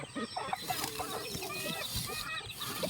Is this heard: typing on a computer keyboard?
no